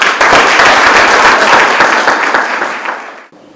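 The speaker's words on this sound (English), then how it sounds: "A round of applause for them." An awards ceremony crowd gives loud, close applause that holds strong, then fades away over the last second before a brief quiet.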